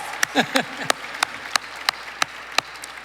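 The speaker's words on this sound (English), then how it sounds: "Let's give them another round of applause." Sparse, scattered hand clapping from an audience at an MLK Day celebration honoring speakers and officials, individual claps spaced out and fairly close, with a voice briefly audible near the start.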